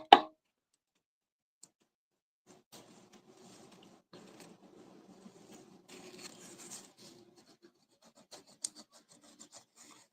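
Someone burnishes a paper craft piece by hand, producing quiet, intermittent rubbing and scraping strokes after a sharp tap at the start, close and faint with light ticks toward the end.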